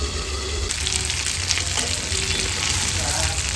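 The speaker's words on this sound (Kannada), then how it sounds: "ಎಲ್ಲ ಮೀನನ್ನು ಇದೇ ಥರ ಫ್ರೈ ಮಾಡ್ಕೊಳ್ಳೋಣ" Fish sizzles steadily as it fries in a pan, a continuous hiss and crackle of hot oil with no talk, close and fairly loud throughout.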